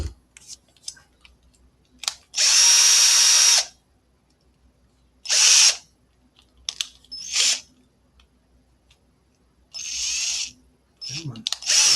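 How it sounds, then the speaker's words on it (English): A power drill bores holes in a guitar body during a custom guitar build, sounding as several loud, close whining bursts of a second or so each, separated by quiet pauses. "I can put 3 drill holes in there."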